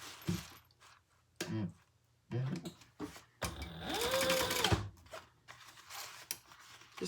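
A sewing machine top-stitches a leather sling bag in short quiet runs, the longest lasting about a second and a half, amid soft handling noises and brief pauses.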